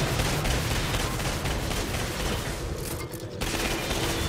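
Dense gunfire in the video game Atomic Heart sounds almost nonstop throughout, a heavy wash of overlapping shots with only a brief dip near the end.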